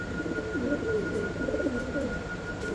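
Pigeons in a pen of running pigeons coo steadily in repeated, rolling calls, fairly close and continuous, over a constant high electrical whine and a soft background hum.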